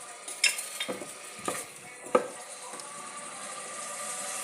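Onions sizzle and are stirred in hot ghee for an Algerian soup, with a soft steady frying hiss and a few scraping clacks of a spoon near the start, fairly quiet.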